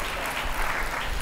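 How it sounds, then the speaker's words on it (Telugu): A church congregation clapping together in praise of God: a dense, steady burst of applause from many hands that sounds close and fairly quiet, with no voices over it. "చప్పట్లు కొట్టి దేవుని మహిమపరుస్తాం."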